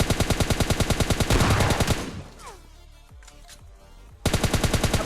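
Automatic gunfire from the mobile battle royale game PUBG Lite finishes off an enemy: rapid loud bursts, a pause filled with softer game effects, then another rapid burst at the end.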